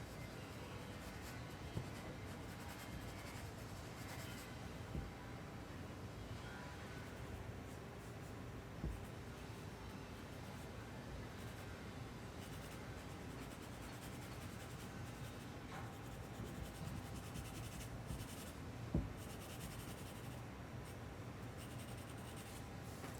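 A pencil scratches steadily across paper while finishing a drawing, a soft continuous close-up rasp with a few faint taps and no talking.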